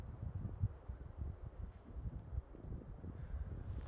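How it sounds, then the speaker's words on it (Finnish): Low, steady wind rumbling and buffeting outdoors in Seitseminen National Park in winter, a soft continuous roar with gusts, no voices. "Tuuli humisee vaan ja"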